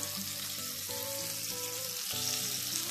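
Floured sardines fry in hot oil in a pan, giving a steady, close sizzle with a faint low hum under it and no voices.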